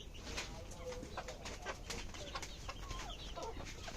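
Chickens kept overnight on raised roosting shelves in a poultry coop, heard as a steady clutter of soft clucks and rustling with occasional wing flutters throughout.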